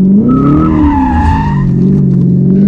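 A Corvette drifts with its tires skidding, a loud, close, sustained squeal that wavers in pitch over a roaring engine for nearly three seconds.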